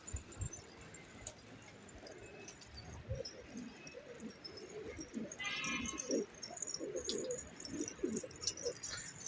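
Pigeons coo softly inside a coop among faint rustling and fluttering, low murmuring calls repeating throughout with no nearby voices.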